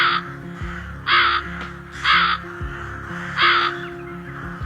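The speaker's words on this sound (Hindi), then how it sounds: "लोमड़ी की गुफा से जोर जोर से आवाजें आ रही होती हैं कालू कौवे की" A crow caws three times in a steady rhythm, each call loud, harsh and close, over a low continuous background hum and no voices.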